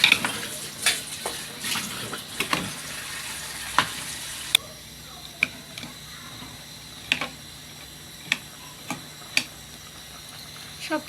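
Spices and ingredients being mixed into rice for khichuri in a pot, quiet scraping and stirring with intermittent clicks and knocks of a spoon against the vessel, close but soft, no voices.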